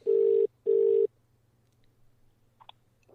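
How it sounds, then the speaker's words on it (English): A phone ringing as a call goes out, two steady electronic ring tones with a short gap between them, followed by quiet line noise and a faint click or two. "The phone is ringing."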